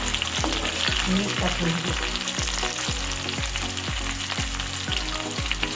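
Garlic fries in a pan to a reddish-brown, with a steady loud sizzle and repeated stirring scrapes at a regular rhythm, close up and alone.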